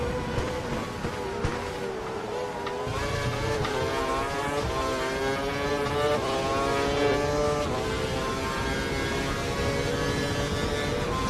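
Formula One race car engine in the F1 2012 racing game at Australia, a loud sustained high-pitched whine climbing through rising gear pitches with steady revving and shifts, continuous throughout without talk.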